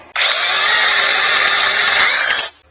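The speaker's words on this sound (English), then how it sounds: "So it's like a real chainsaw." A small 21-volt brushless battery mini chainsaw with a 6-inch cut whines loudly and steadily as it cuts through wood, running close up for a couple of seconds before cutting off.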